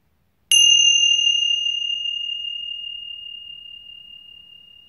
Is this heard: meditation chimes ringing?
yes